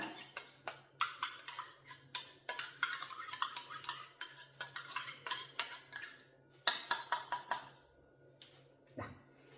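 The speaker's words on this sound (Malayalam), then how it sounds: "ഇനി നമുക്കതൊന്ന് മിക്സ് ചെയ്ത് കൊടുക്കാം" A spoon stirs yogurt face pack in a bowl, giving a quick series of light clinks and scrapes in an uneven rhythm, close and fairly quiet, with a brief pause before a last few taps.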